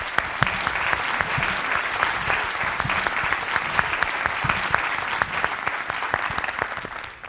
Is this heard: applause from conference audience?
yes